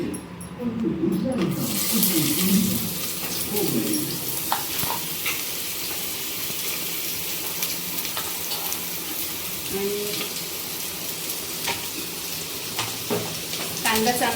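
Finely chopped onion hits hot oil already holding a few bay leaves, a loud burst of crackling that settles into a steady close sizzle, with occasional stirring scrapes and clinks.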